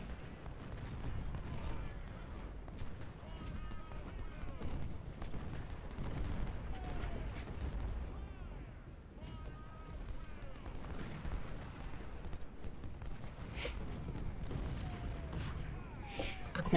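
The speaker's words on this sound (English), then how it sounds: "Hey, 20 pounders, shoot those guns, please." 20-pounder artillery cannons fire in the American Civil War strategy game Ultimate General: Civil War, a steady stream of distant booms and musket crackle rolling on under a battlefield din, fairly faint overall.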